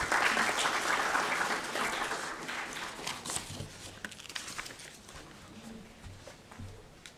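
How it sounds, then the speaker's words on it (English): Audience applause at a Kwibuka commemoration of the 1994 genocide in Arusha, loud and dense at first, then thinning into scattered claps as it fades. "Kindly, can we give Ambassador Amy another round of applause?"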